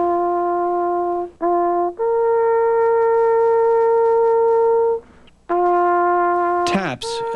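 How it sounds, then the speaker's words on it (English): A lone bugle plays the opening notes of Taps, with long clear sustained tones in a slow measured rise and short breaths between them, close and strong, then a brief burst of higher sound at the end. "the beginning of taps now that we know today sounds like this"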